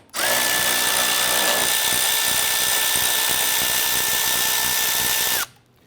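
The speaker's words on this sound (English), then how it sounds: "there's a 10mm bolt right here. Loosen and remove that." A power tool loosening a 10mm bolt on the grille support of a 2011-2021 Jeep Grand Cherokee gives a loud, steady, high-pitched whir that holds for about five seconds and then cuts off abruptly, with no talk.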